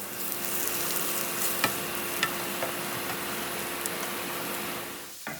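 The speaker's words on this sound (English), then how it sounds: "I'm just going to put in some garlic, and fry that up for a few minutes." Garlic sizzling and frying in hot oil over high heat alongside well-browned onions, a steady dense crackle with occasional sharper pops and a brief stir near the end, no talking.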